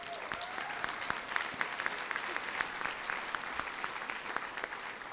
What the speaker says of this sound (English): give yourselves and each other another big round of applause